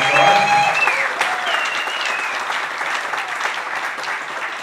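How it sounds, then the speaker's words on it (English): Audience applauding competitors at the opening ceremony of the Hansa Class Asia Pacific sailing championships, loud sustained clapping throughout, with a whistle-like tone and faint voices riding over it early on. "So a big round of applause for"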